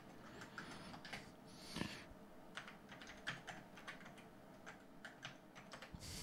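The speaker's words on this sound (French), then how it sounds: "je tape avec un clavier suisse" Typing on a Swiss-layout computer keyboard while networking Amiga computers, a quiet, uneven patter of separate key clicks with a few louder strokes, and no voices.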